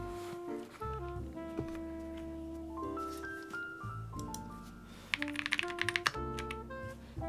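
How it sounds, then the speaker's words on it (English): Key presses on an Aeroboard 70 mechanical keyboard clack faintly under background music, with a short flurry of quick taps near the end. "we can do an official typing sounds test"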